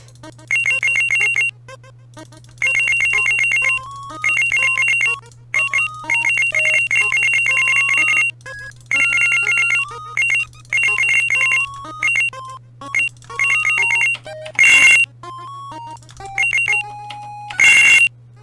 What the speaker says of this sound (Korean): 이 삑삑삑삑삑삑, 시끄러워 죽겠네, 이거.